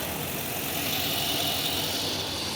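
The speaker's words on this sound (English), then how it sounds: "You can hear the engine running well." A steady, low engine rumble from a 2015 Chevy Silverado 2500 pickup with a 6.0-liter gas engine runs without a break, idling up close with a constant broadband hum and no talking.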